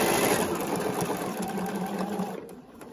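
A sewing machine runs steadily through quilt binding on a kaleidoscope baby quilt, a continuous close mechanical whir that briefly slows toward the end as the stitching reaches a seam line and backstitches.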